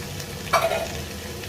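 Canned button mushrooms, drained of their liquid, are stirred into a hot frying pan for a pastilla filling, giving a short scraping stir and a brief burst of sizzling midway, alone without talk.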